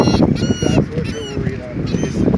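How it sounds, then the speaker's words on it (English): Birds bathing in a drying puddle give repeated nasal honking, goose-like calls close by, rising over a busy background of splashing and rustling. "Wow, look at all these fucking birds. Just taking a little bath."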